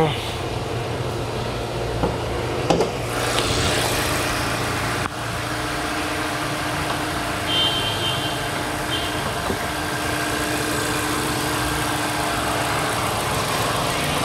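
A 2016 Mazda 3 automatic engine idling with the bonnet open, a steady smooth low hum held for the whole stretch, with a few faint clicks and handling noises nearby.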